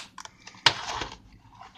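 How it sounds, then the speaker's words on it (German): Scissors cutting material while an aquarium is being set up, a few crisp snips with one sharper crunchy cut, close and fairly quiet. "jetzt schneide ich quasi hier mit der Schere"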